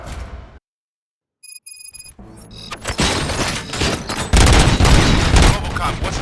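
Gunfire erupts in the video game RoboCop Rogue City after a brief electronic beeping, building into loud, dense bursts of shots and booms layered with game effects.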